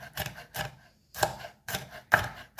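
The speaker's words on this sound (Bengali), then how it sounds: "ক্যাপসিকামটা আসলে এভাবে ভেতর সাইড থেকে কাটলে সুবিধা হয়।" A knife slices a capsicum from the inner side into long strips, producing five or so close, distinct chopping strokes on a board in an uneven rhythm with short gaps between.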